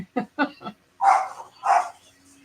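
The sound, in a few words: dogs barking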